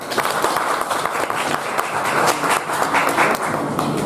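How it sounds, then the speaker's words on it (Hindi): An audience at an indoor student scholarship event claps to welcome guests, a dense, sustained round of applause at fairly loud volume with no break. "तालियां बजाकर इनका स्वागत करते हैं।"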